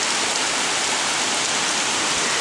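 Rain pours down steadily in a uniform broadband hiss, loud and close, with no pauses or voices for the whole short stretch.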